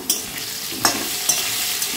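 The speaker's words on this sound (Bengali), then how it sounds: "তো এখন আলুটা ভাজা ভাজা হোক" Salted potatoes fry in a pan, sizzling steadily and close up. A few quick scraping stirs cut through the hiss, and no one speaks.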